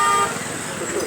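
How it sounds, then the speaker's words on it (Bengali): An auto rickshaw horn toots in short, bright honks amid street traffic noise, with people talking nearby over it. "ওই তো অটো রিক্সা"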